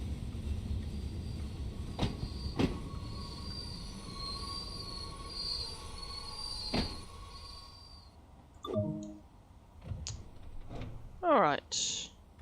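Class 483 train in Train Sim World 2 rumbling to a stop, with steady running noise and a sustained high wheel squeal, a few sharp clanks, then quieter squeaks and door-like knocks near the end as it halts.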